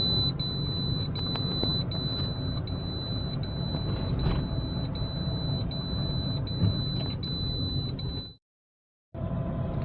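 A 2022 Mahindra Bolero SLX BS6 diesel SUV with a DEF warning is driven, a steady close engine and road rumble with a faint high whine, which cuts out briefly near the end before resuming.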